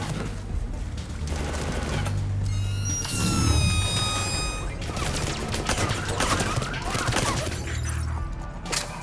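Gunfire in the Mass Effect 3 video game: a dense burst of shots and clattering impacts runs throughout, with a bright ringing sweep midway over a low rumbling game soundtrack.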